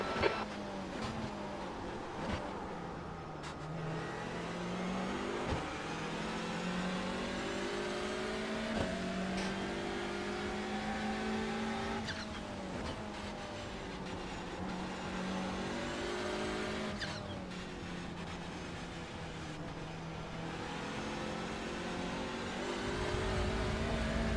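A touring car engine in iRacing at Circuit Zandvoort drones steadily, its pitch rising and falling through gear changes and corners in a continuous close onboard whine with almost no talk.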